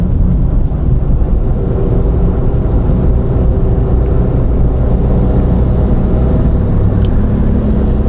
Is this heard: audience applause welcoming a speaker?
no